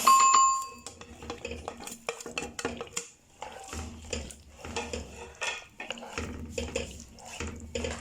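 Dry fish goes into a pot of jollof stew amid clinking, clattering pots, utensil taps and stirring scrapes, sharp close knocks coming in uneven bursts with quiet gaps, no talking.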